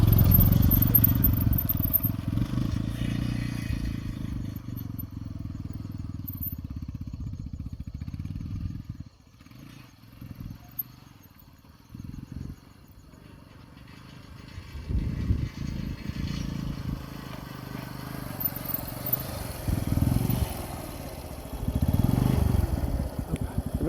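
A motorcycle engine runs steadily at low idle, drops away briefly, then picks up again with uneven surges, close and fairly loud with no voices.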